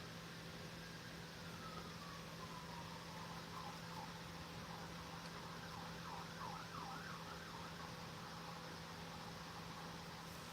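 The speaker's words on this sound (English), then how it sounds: "A police car going on Grand Avenue again." A police car siren wails faintly in the distance on a city avenue, rising and then warbling through several cycles beneath a steady low hum and background noise, with no talk.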